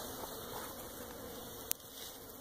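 Honey bees buzz steadily around an open hive during an inspection, a dense continuous drone close by with a brief sharp knock partway through.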